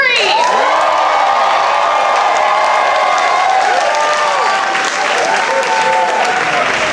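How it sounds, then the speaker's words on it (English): A large comedy show audience in New York cheers and applauds loudly and continuously, with whoops and shouted voices rising over the steady clapping. "Audience, make some noise if you want to hear more from Jeff Mercury."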